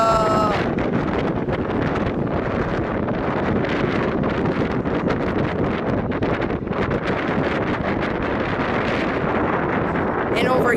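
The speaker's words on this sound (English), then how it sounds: "Whoa, it's windy back here." Strong wind buffets the microphone on the CN Tower observation deck in Toronto, a loud, constant roaring gust that covers the whole stretch, with people talking faintly in the mix.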